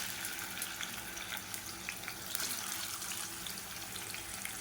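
Long-sliced large onions frying in hot oil in a pan for chicken biryani, a steady close crackling sizzle with faint watery hiss running throughout, no voices.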